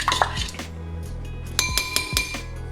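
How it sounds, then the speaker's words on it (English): Ingredients for a Primanti Bros-style sandwich recipe being mixed in a glass bowl, heard as a few close, bright clinks of a utensil against the glass, some spaced and some in quick succession, with no talking. "Then we're gonna give that a mix and mix."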